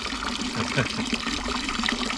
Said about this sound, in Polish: Chłopaki uzupełniają wodę.